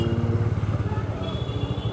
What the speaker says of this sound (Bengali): এই সামনে একটা সুপার বাইক গেল,